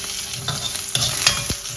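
Fennel seeds and green chillies frying in a hot pan, a steady close sizzle with scraping stir strokes and small pops throughout.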